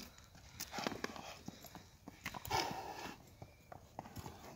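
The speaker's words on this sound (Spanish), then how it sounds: "miren la chulada de caballo" Horse hooves at a ranch in Kansas, a series of close clip-clops in an irregular walking rhythm, fairly quiet, with soft background noise and no talking.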